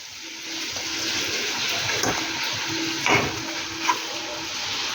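Water boiling hard in a wok on a gas stove before steaming kadam phul pithe, heard as a continuous close, loud hiss and bubbling roar with a few brief clinks.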